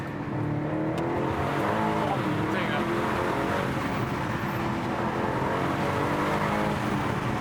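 A 2024 Aston Martin DB12 engine roars steadily as it accelerates, loud and close throughout, with a voice speaking over it.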